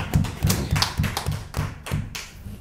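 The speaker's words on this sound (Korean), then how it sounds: "우리 하나님께 영광의 박수 올리겠습니다" Church congregation at a Wednesday worship service applauding in rhythm, a steady run of evenly spaced, slightly hollow claps, fairly close and moderately loud with no talking over them.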